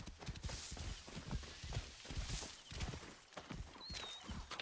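Hooves of a horse being ridden in Assassin's Creed Origins clop in a steady walking rhythm, close and fairly loud, with a brief high whistle-like tone near the end.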